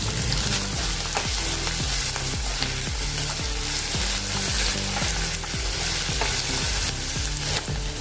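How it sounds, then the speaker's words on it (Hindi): Chopped onions and green chillies fry loudly in hot oil for a seasonal vagati bhaji, a steady dense sizzle with repeated scraping stirs at a regular pace and no talk. "अभी तेल गरम हो गया है, इसमें अभी हम प्याज डालेंगे। साथ में हरी मिर्च भी डाल देंगे।"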